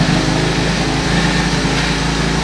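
Small single-cylinder engine of a Honda ATC 125 three-wheeler running steadily with a dense, buzzing drone, loud and close throughout, no voices.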